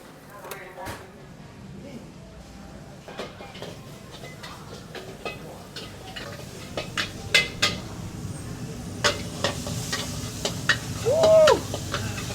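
At an old-school Bangkok street joint, pork stir-fries in a flaming wok, with rapid metallic clanks of spatula on pan and a low sizzle building over time, while someone talks throughout.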